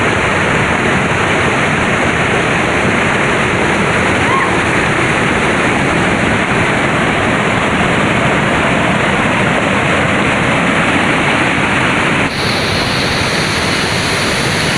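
Steady, dense roar of the waterfall at Curug Leuwi Hejo in Sentul, Bogor, loud and close, broadband and unbroken throughout with a slight shift in tone near the end.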